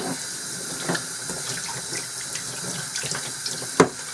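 Tap water runs steadily into a sink as clarinet parts are rinsed under it after cleaning, a close, continuous splashing stream with a brief louder splash near the end.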